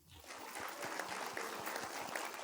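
An audience applauds an assistant principal at a school Model United Nations event, with steady scattered clapping at moderate distance that carries on throughout.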